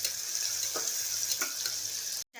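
Cumin seeds in hot oil for a quick chicken biryani produce a close, continuous sizzle with faint bubbling pops, steady for about two seconds before cutting off abruptly.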